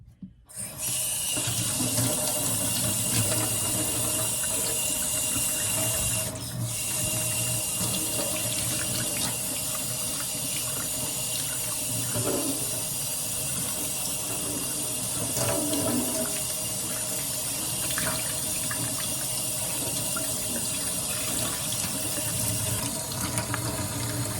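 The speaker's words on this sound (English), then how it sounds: "sometimes people find it soothing to listen and watch a doll's hair being washed" Tap water running steadily while a Gotz doll's hair is washed in a sink, a continuous close splashing rush with slight shifts as the hair moves under the stream, no talking.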